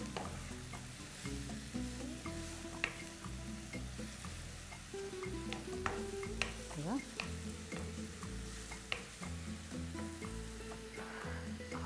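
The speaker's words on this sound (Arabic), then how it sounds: "نشوح البصل ندبله بمعنى اصح." Onions soften in a hot pan with a steady, close sizzle. Occasional stirring scrapes and clicks sit over the sizzle, with a faint tonal background underneath and no clear talking.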